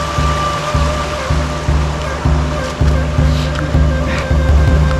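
Cold river water flows steadily where two river branches meet, a continuous loud rushing close by with a low rumbling undertone and no break.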